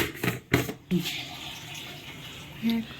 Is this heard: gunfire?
no